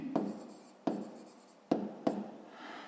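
A pen writes out a fifth-grade math solution on paper, four distinct scratchy strokes about a second apart, close and quiet with no talk.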